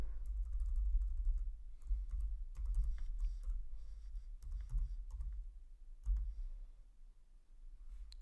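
Typing on a computer keyboard to enter a login name, a steady run of close, quick key clicks with short pauses and no voices.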